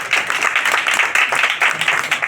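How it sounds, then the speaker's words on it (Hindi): A church congregation claps in a dense, steady rhythm, loud and close, with a few voices mixed into the continuous clapping. "ताली बजाओ खुदा के साथ।"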